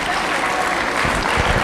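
A wrestling arena crowd at a Ring of Honor event gives polite applause, a dense steady patter of many hands clapping, loud and continuous throughout.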